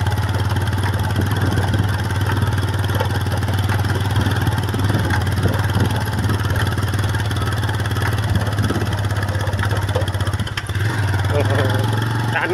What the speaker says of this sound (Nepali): बाइकलाई पनि तान्न गाह्रो छ।